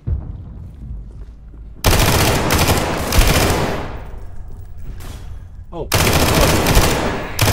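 Automatic gunfire rips through the video game SCP 5K in long, loud, sustained bursts separated by a quieter pause, with a brief exclamation from a player between volleys.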